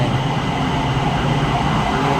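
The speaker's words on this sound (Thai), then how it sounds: "โอ้ นี่ รถไฟ" A BTS skytrain on the Praeksa line pulls into a station between Samut Prakan and Bangkok, giving a steady, broad rumble with a constant hum that holds at even loudness without breaks.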